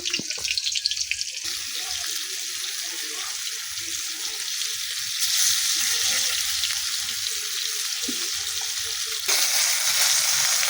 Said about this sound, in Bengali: মাছ আমার ভাজা করে নিচ্ছি